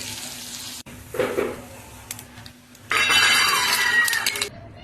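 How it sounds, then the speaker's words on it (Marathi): Onion and coconut roasting in a pan, with bursts of crackling sizzle, a pause of quieter stirring and light clinks in between, then a louder, steady frying hiss near the end. "कांदा खोबरं भाजून घेणार आहे."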